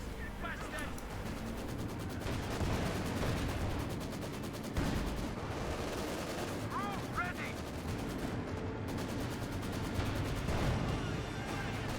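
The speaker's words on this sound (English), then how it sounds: "Another land mattress barrage." Land Mattress rocket barrage in Company of Heroes 2, a rapid run of launches and explosions amid continuous battle gunfire, with a commentator talking over the din.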